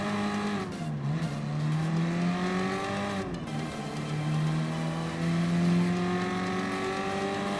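An old Alpine A110 in Gran Turismo Sport drones steadily at close range, its engine note rising and falling through gear changes with a brief lift around the middle, loud and continuous with no talk.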